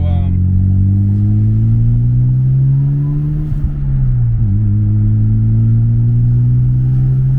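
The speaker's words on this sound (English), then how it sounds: "it's not loud because it's still stock turbo, but you can hear the turbo spool." A stock-turbo Mazda RX-7 FD, right-hand drive, under way with a loud steady engine drone that rises in pitch, dips briefly mid-pull, then climbs again as the turbo spools.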